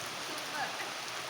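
Heavy rain in Mysuru falls as a steady, close hiss of drops on surfaces, unbroken through the moment.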